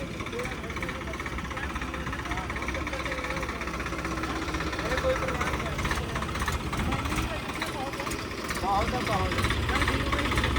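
A Swaraj 855 tractor engine idles with a steady low chugging drone, loud and close, with people talking over it at times.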